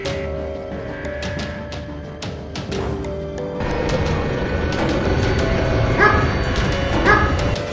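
A dog barks and yips repeatedly in a tense outdoor scene amid background noise, short sharp bursts that grow busier toward the end.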